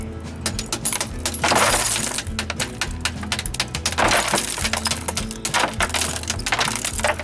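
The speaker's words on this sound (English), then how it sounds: "Safety glass, it explodes and gets you." Safety glass shattering and crumbling, a dense, loud burst of crackling, tinkling fragments that keeps up in repeated waves with no speech.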